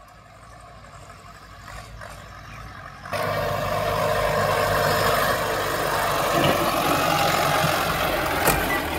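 A tractor engine runs in reverse gear along a raised ridge in an orange grove, first as a lower idle, then rising to a steady loud drone that continues to the end.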